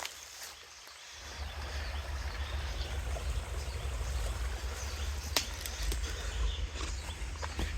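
Rainwater runs across a rocky Kalpetta plantation planted with teak, mahogany and rosewood, giving a steady, low-pitched wash of flowing water close by. It is continuous and broadband, with no talk heard.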